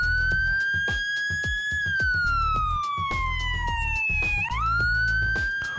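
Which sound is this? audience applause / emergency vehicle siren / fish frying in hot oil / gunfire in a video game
emergency vehicle siren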